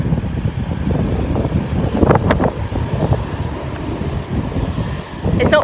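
Strong wind roars across the microphone on a rocky volcanic Tenerife coast, with waves and surf crashing continuously beneath it in a loud, steady rush.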